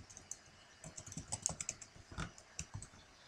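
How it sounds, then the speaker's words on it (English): Rapid bursts of keystrokes clatter on a computer keyboard as a login command and credentials are typed, close and fairly quiet, with no speech. "And type in /login. And then your credentials."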